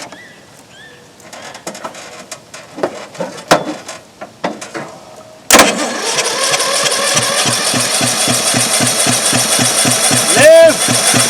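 A Murray ride-on mower engine turns over and fires with a rough, rapid chugging after some clanks and movement, running loud and steady to the end. A voice is heard near the start.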